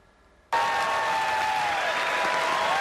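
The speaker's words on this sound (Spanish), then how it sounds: "Benjamín Netanyahu fue recibido con aplausos de pie para su primer discurso en el Congreso de Estados Unidos" Loud, sustained applause from a large audience in the US Congress, a standing ovation for Benjamin Netanyahu's address, erupting abruptly after a quiet moment and continuing steadily without a break.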